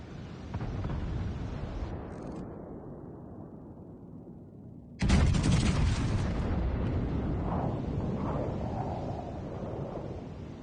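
Battleship gunfire in the naval game World of Warships Legends, with a German battleship firing a full broadside: a sudden loud blast bursts in midway, then a long rumbling roll over steady wind-like ambience.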